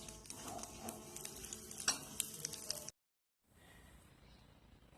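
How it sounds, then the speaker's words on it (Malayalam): Grated coconut frying in coconut oil in a pan, a soft sizzle with spoon stirring and scraping for about three seconds, then a brief silence before quieter frying resumes, close but faint. "ചട്ടിയിൽ വെളിച്ചെണ്ണ ഒഴിച്ചിട്ട് നാളികേരം ഇട്ട് കൊടുത്തിട്ടുണ്ട് ഇനി നമുക്കിത് ബ്രൗൺ കളർ ആവുന്നത് വരെ വറുത്തെടുക്കാം"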